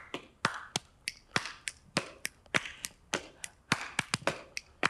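Sharp finger snaps and hand claps ring out in a lively, uneven rhythm, with light stomping footwork mixed in as body percussion for a children's song, close and crisp with no talking.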